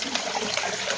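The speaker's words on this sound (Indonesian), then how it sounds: "akar ini sekarang saya coba diarahkan ke air terjun yang saya susun dengan batuan alam" Water spilling steadily over a small waterfall built from stacked natural stones, a close, continuous trickle and splash with no voices.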